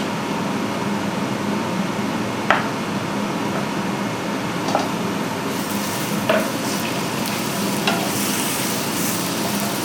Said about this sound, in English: I'm in the process of actually browning the steak